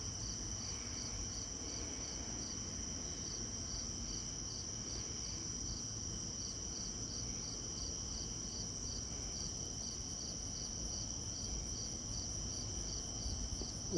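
Crickets chirp at night in a steady, continuous high trill, several insects layered, with faint low traffic rumble from a nearby street underneath and no voices.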